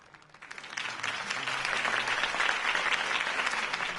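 A video game crowd applauds after a political campaign speech, the clapping swelling in quickly from a quiet start into a dense, sustained ovation that holds steady through the remaining seconds.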